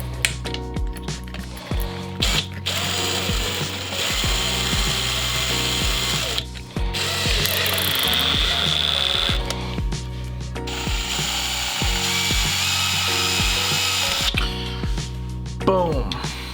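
A handheld drill runs in several close, steady bursts across the stretch while a DIY lens is built for a camera, with short pauses and clicks of handling between runs.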